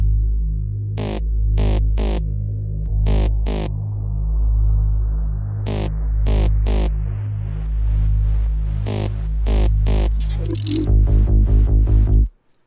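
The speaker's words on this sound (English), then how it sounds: "we also have this mid bass saw effect" A mid-bass saw synth effect pulses in a steady throbbing rhythm, layered with sustained hum and periodic bright bursts, with a rising sweep building toward a dense crescendo before cutting off abruptly.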